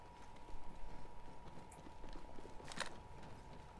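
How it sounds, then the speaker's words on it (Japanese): Footsteps in the video game Apex Legends, a soft rhythmic patter of steps with one sharper knock, faint against constant background game noise. "あ、今足音。"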